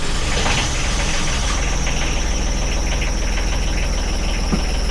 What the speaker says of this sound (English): got the motors running